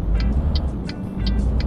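A truck drives in the video game Euro Truck Simulator 2. A steady, deep engine rumble runs throughout, with faint, evenly spaced ticking clicks over it.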